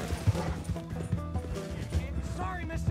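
Horse hooves clip-clopping in Red Dead Redemption 2, a steady run of low, muffled hoof thuds under game music, with in-game characters talking over them.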